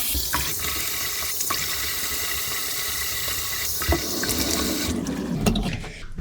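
Cold tap water runs steadily into a sink while the face is rinsed after a shave with antique razors, a close continuous splashing stream with small bumps and gurgles, thinning out near the end.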